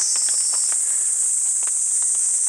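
A cicada-like insect drones in one loud, unbroken high buzz at an old burial mound site in Habikino, with faint soft ticks and steps underneath.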